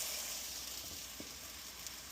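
Chicken potato patties sizzling in a pan, a steady, even hiss that holds at a moderate level, close and faint, with a couple of small ticks and no voices.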